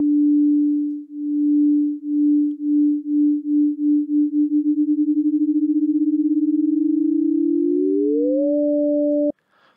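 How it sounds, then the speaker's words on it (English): A steady pure synth tone pulses with a wobble that speeds up into a rapid flutter, then a second tone glides up an octave before cutting off abruptly. "If I put it back to sine wave, let me show you how that sounds"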